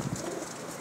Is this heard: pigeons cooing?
yes